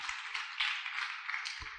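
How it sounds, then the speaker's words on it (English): Faint, distant applause from a panel-session audience, a steady soft patter of clapping that holds evenly for about two seconds with no voices. "Big round of applause for Vignesh and Tracy."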